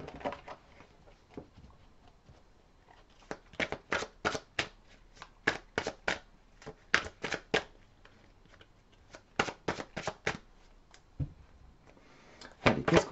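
A tarot deck is shuffled for a reading, with bursts of sharp card slaps and riffles in quick clusters, close and quiet, and no voice.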